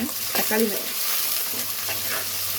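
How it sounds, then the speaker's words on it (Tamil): Brinjal pieces with onions sautéing in a pan for a Tamil kara kuzhambu, a steady soft sizzle with a few scraping stirs and a brief voice early on. "நல்லா வெங்காயத்தோட இந்த கத்திரிக்காயை நல்லா வதங்கட்டும்"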